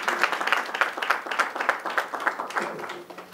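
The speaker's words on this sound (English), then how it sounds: "Give yourself a round of applause for that." Audience applause fills a hotel presentation room, a steady patter of many hands clapping at moderate volume with rhythmic peaks, without voices over it.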